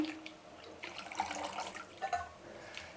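Fresh coriander leaves being rinsed under a running kitchen tap, a soft irregular splash and trickle of water with faint handling sounds, close and fairly quiet.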